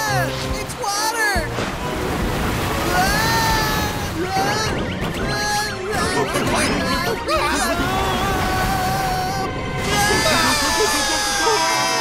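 Water sloshing and waves in an animated cartoon, a loud, continuous rush of surf mixed with bright musical score and cartoon voices over the top.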